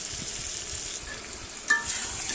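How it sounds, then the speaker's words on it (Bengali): Fish heads frying and being stirred with salt in hot oil: a continuous soft hiss of sizzling with faint scraping, steady and fairly quiet, with one brief clink of a utensil near the end. "আগে থেকে ভিজে রাখা মাছের মাথাগুলো দিয়ে তারপর আবার ভালো মতো কষিয়ে নেব"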